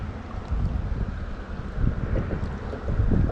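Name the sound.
wind blowing at a lakeside bank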